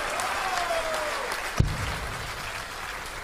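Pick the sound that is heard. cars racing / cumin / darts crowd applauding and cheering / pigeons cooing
darts crowd applauding and cheering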